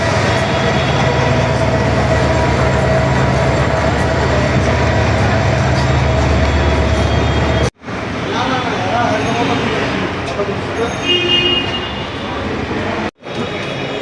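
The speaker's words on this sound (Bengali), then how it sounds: "আমরা কমলাপুর রেল স্টেশন চলে আসছি।" A train rumbles steadily at Kamalapur railway station, loud and continuous with some abrupt cuts, as voices speak over the din.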